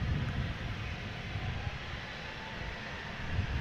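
Jet engines of a BBN Airlines A321 bound for Istanbul spool up at Amsterdam Schiphol Airport, a steady, heavy low roar that holds throughout with no voices.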